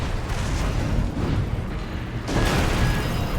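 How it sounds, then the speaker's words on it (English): A broad rumbling explosion in the mech combat game Armored Core VI, a dense roar with a sharp fresh burst partway through, loud and unaccompanied by talk. "I didn't even see that explosion go off"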